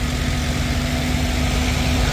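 A John Deere 20 Series tractor engine idles steadily close by, a constant low rumble with a heavy engine hum, no talk over it.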